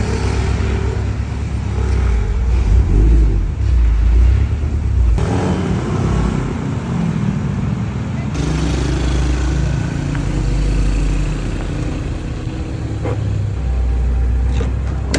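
A Honda Civic on a test drive, engine rumbling and revving loudly and continuously close by, with shifts in tone as it accelerates.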